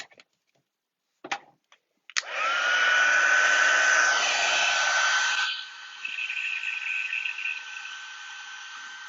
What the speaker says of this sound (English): I hope you can hear me above my heat tool.